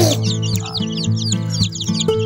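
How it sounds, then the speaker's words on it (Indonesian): An Ayam Cemani chicken clucks in short, close repeated calls while other birds chirp and twitter in the background. "Ini ayam cimani."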